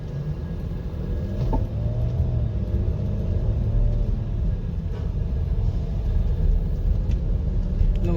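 Mercedes-Benz GL 350 CDI on a test drive after an engine mounting replacement and alignment, giving a steady low road rumble and engine drone heard from inside the cabin with no talking.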